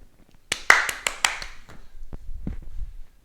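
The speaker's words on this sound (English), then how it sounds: "Nice fast claps and bend the knees to catch the ball" Quick bursts of hand claps ring out nearby during a children's tennis catching drill done at home, about a half-dozen sharp claps in a rapid run with softer thumps following.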